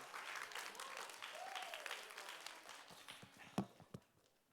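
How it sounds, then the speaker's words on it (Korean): A high school church congregation gives welcoming applause for first-time visitors, a short burst of clapping that tapers off into a few scattered final claps and quiet. "우리 친구들을 위해서 환영의 박수 하도록 하겠습니다"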